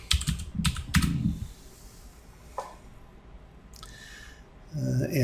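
A computer keyboard clicks out a password in a few quick bursts of keystrokes, then goes mostly quiet before a voice begins speaking at the end.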